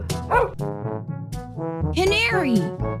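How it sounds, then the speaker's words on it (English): A dog gives a few short yipping barks and a whimpering whine, close and fairly loud, mixed with a voice in a children's animal-naming sequence. "Dog."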